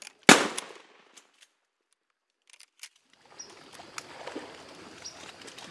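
A single loud hunting-rifle shot cracks close by, followed by a long decay, then a few faint clicks and a stretch of quiet outdoor ambience with low rustling.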